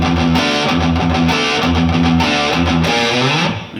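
Heavily distorted electric guitar plays two bars of a riff at a slow tempo, with chugging palm-muted power chords and note runs, loud and continuous with no talking.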